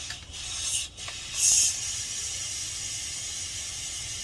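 Steam hisses from a pressure cooker as it releases pressure during a camper meal of meat and rice, a loud, steady high-pitched hiss with a brief surge early on, heard alone.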